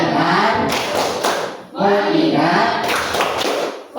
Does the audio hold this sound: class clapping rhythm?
yes